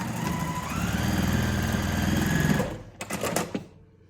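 A sewing machine runs steadily for a quarter-inch seam on quilt piecing, a close, even motor whir for about two and a half seconds before stopping, followed by a few brief handling clicks.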